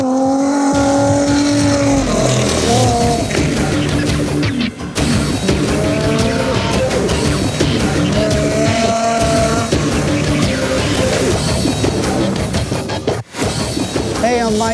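An off-road racing truck engine roars and revs steadily throughout, loud and close, with shifting pitch as it drives, mixed with voices or other sound.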